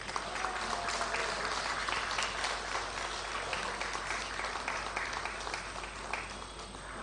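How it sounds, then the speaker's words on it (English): At a 25-year batch reunion, an audience gives the teachers a round of applause: steady, fairly dense clapping from a crowd, continuous and even throughout with faint voices underneath. "Let's give them another round of applause."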